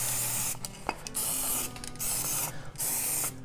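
Aerosol lubricant sprayed onto a spare tire cable retainer in several steady hissing bursts, close and loud, separated by short pauses.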